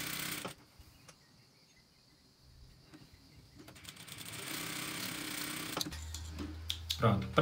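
A sewing machine stitches along the marked line of a Christmas quilt block, its motor whirring faintly at first and then running more steadily and louder in the later part.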